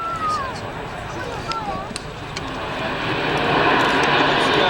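Airbus A400M turboprop military transport performing a flying display at the Farnborough Air Show, with a loud, steady engine roar that swells toward the end while a commentator talks over it.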